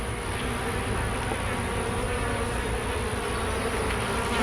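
Honey bees buzzing steadily and densely around an opened hive during a late-May inspection, a continuous close swarm drone with no talking.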